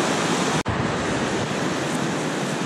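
A river in the Kaitoke area of New Zealand flows with a loud, steady broadband rush, close by and uninterrupted apart from a brief dropout.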